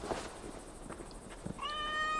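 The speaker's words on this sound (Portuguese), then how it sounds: "Ah, já tem um gatinho aqui, ó." A cat meows in the video game Assassin's Creed Valhalla, a single rising, drawn-out call near the end, faint against a steady ambient game background.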